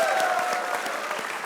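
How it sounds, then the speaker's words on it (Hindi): Applause from a crowd for cricketer Mohammad Amir, a steady patter of clapping hands filling the space at moderate distance, with no talking over it. "मोहम्मद आमिर के लिए तालियां।"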